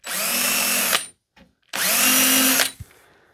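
Power drill starting screw holes in the rudder of a P-51 pedal plane, two loud whining bursts of about a second each separated by a short pause with a faint click between.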